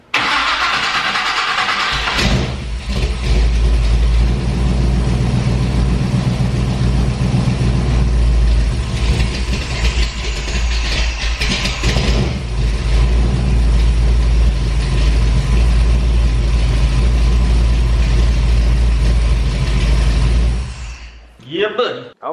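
Chevrolet K30 truck with a mini starter cranking and firing up, then a loud, steady close-up engine idle running for about twenty seconds before cutting off.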